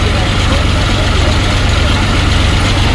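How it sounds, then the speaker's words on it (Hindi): A tractor engine runs at about 10 on the throttle while driving a thresher separating coriander, giving a loud, steady low drone with continuous mechanical rumble and no change across the stretch. "कितने की रेस पे चल रहा है ट्रैक्टर"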